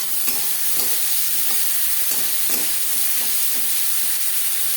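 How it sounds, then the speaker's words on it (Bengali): Onions stirred into a hot spice tempering in a pan, a constant frying sizzle broken by rhythmic spatula scrapes and taps, close up with no one speaking. "ফোড়নের সাথে পেঁয়াজ বেশ ভালো করে মিক্স করে দেব।"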